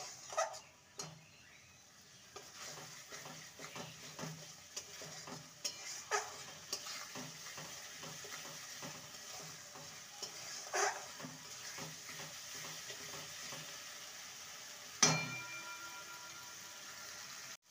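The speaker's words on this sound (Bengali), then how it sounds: "এটা আর একটু কষতে হবে।" Spice paste for prawn malai curry fries gently in oil in a pan, soft steady sizzling broken by repeated scraping stirs and light taps of the spoon, fairly quiet and close.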